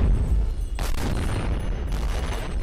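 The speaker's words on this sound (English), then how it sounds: "These barrels can explode, which is nice." Barrels explode in a hack-and-slash video game with particle effects: a loud, sustained blast with a sharp burst partway through and a second hit near the end, rumbling over continuous game noise.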